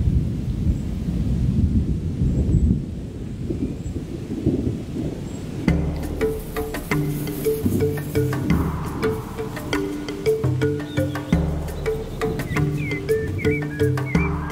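Low rumbling thunder rolls continuously in the distance over the savanna, with a steady wash of rain or wind layered over it.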